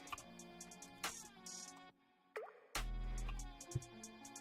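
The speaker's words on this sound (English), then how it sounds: "that drip sound effect that just played in the song" A cartoonish drip sound effect plays within a song, a single watery plop with a quick pitch sweep, heard between stretches of music at moderate loudness.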